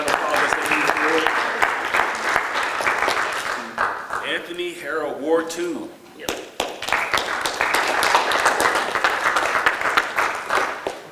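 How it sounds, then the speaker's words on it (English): Applause at a city council meeting in Waynesville, Missouri, a steady wash of clapping from the room that briefly drops while a voice speaks, then swells again. "let's give him a round of applause as they move forward."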